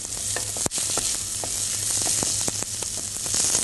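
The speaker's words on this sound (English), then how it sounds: "And the garlic. Give it a good stir." Garlic sizzles in a pan of hot oil for a vegetarian chilli, a constant bright crackle broken by a sharp utensil knock early on and scattered stirring scrapes, with no voices.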